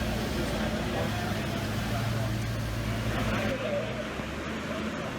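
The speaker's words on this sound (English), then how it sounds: "here we got a 2006 GTO. Sounds pretty stock. Let's see what she puts down." A 2006 Pontiac GTO with a cold air kit runs on a dyno, a loud continuous engine drone with a low rumble, easing off slightly toward the end under a voice talking.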